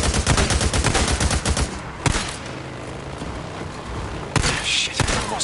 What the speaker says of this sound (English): No, no, no, can't shoot him. I gotta shoot the bison.